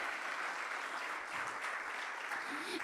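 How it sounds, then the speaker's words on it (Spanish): Church congregation clapping in praise, a soft, distant patter of scattered applause that stays even and faint, rising in a short bump at the very end. "Yo no sé cuántos pueden rendir un fuerte aplauso al Señor."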